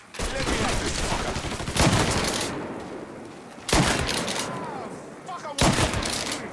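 Bursts of automatic gunfire from the video game Mafia III come in three loud, close volleys, each lasting about two seconds, separated by shorter gaps with lingering rattle and echo.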